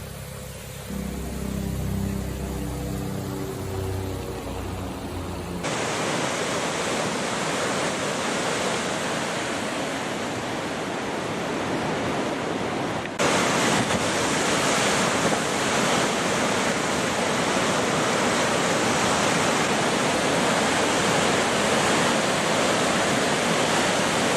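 Loud, steady rushing flood water roars continuously, a dense broadband wash that surges louder partway through, with no voices.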